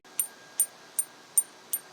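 Steel begleri beads clack together five times at an even pace, each a short, bright metallic ting like a tiny bell against near silence.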